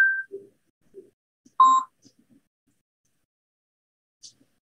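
Telephone keypad tones, a few short separate beeps spaced irregularly over several seconds, with one louder tone in the middle and long quiet gaps, no speech.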